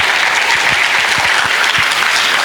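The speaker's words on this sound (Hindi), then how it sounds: "सब खुद के लिए एक बार जोरदार तालियां बजा लिए।" Loud, dense applause from the audience at a school dance competition, continuous and even throughout with no voices over it.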